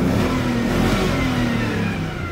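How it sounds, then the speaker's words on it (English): A Chevrolet Silverado 2500HD with a 6.0-litre LQ4 LS V8 at 142,000 miles revs up close and loud, a sustained deep engine roar that holds high and then eases slightly near the end. "Let's give it a couple of revs,"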